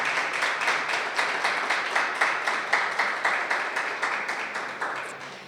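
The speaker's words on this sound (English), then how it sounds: "Let's give her a round of applause." An audience applauds to welcome a woman joining a panel at a festivals masterclass session, with steady, dense clapping and slight rhythmic surges that holds for several seconds at moderate volume.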